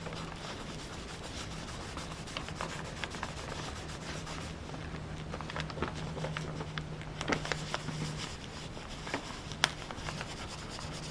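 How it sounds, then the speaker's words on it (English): A slot car part is rubbed around on paper to clean off carbon, making a faint, steady scratchy rubbing that runs continuously with small irregular scuffs. "you just rub it around on the paper just to get the carbon off"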